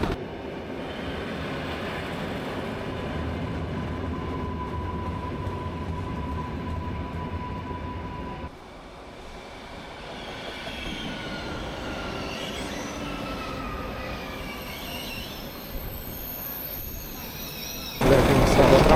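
A train moves through a railway station in Gdańsk, its carriages rumbling and wheels squealing for a long stretch, loud and close. A long steady whine is heard, then a sudden cut, and a louder rush at the end.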